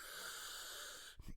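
A voice imitates a long, wheezy, airy breath, a hoarse rasping inhale followed by a short snorting burst at the end.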